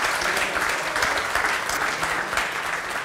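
A live audience at an NBA preview event in France applauds, a thick continuous wash of clapping with a few voices mixed in, close and fairly loud throughout.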